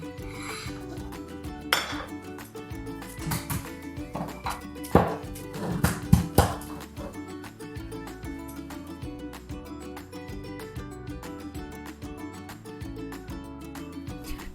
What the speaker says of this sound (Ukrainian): Тепер ми будемо чистити варені яйця для салату.